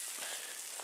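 Spruce boughs scrub a cast iron pan that holds boiling snow water at a winter campsite, a steady close hissing, rushing scour with no pauses.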